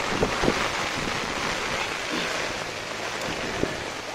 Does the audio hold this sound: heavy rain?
yes